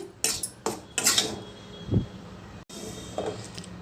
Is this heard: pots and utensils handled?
yes